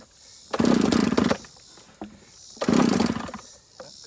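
Partner P7000 engine with a freshly rebuilt carburetor, fired up and running: two loud bursts of rough revving, each lasting under a second, separated by a lower idle drone.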